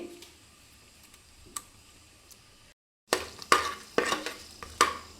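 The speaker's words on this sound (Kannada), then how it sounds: "ಒಗ್ಗರಣೆಗೆ ಎಲ್ಲ ತೊಗೊಂಡಿರೋಂಥ ಸ್ಪೈಸಸ್ಗಳನ್ನ ಹಾಕ್ತಾಯಿದ್ದೀನಿ" Whole spices are dropped into hot oil and ghee for a tomato bath tempering. A soft sizzle runs under sharp metallic clinks and stirring scrapes from a spoon against the pan, close by.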